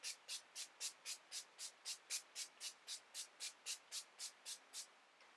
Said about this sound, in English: So this is the NYX Dewy Finish Face Spray, Setting Spray, Finishing Spray, and I'm just going to drown myself in it